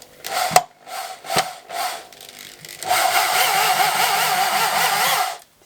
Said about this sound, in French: c'est de mettre un embout de tournevis sur la perceuse si vous n'avez pas de visseuse